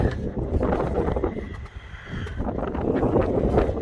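Steady wind buffeting the microphone beside the open engine bay of a 2005 Dodge Neon SRT-4, a continuous loud rushing roar that dips briefly in the middle, then builds again.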